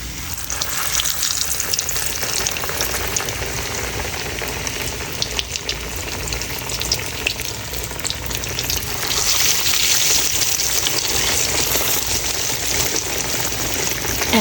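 Chicken fried steak sizzles and crackles steadily in hot shortening at about 325 degrees, a dense close frying hiss with bursts of popping, no voices.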